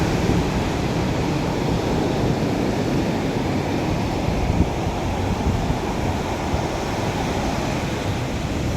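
Steady roar of sea surf washing ashore, continuous and broad with wind rushing across the microphone; no voices.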